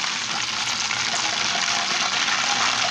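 Yam pieces dropped straight from water into hot palm oil, producing a loud, close, continuous crackling sizzle that holds steady throughout with no talking.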